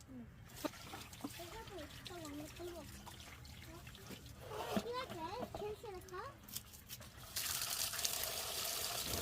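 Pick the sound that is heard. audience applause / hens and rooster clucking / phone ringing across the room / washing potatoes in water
washing potatoes in water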